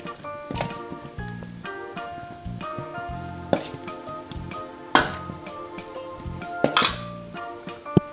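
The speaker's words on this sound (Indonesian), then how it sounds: "Terus diaduk-aduk ya biar rata sama singkongnya" Utensil clinking and scraping against a pan while fried cassava is stirred with spices, a series of sharp metallic clinks and taps at irregular intervals over quiet background.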